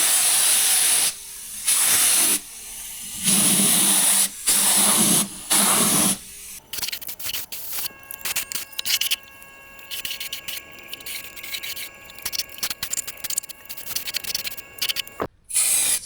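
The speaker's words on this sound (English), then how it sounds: "And now I'm gonna give it a black coating here in the wheel arches." Black underbody coating is sprayed into the wheel arches of a Land Rover Series, with several loud hissing bursts followed by quieter crackling, clicking handling noise and a faint hum.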